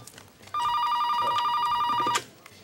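A telephone bell rings once in a steady electronic burst of about a second and a half, loud and close, with quiet room sound before and after.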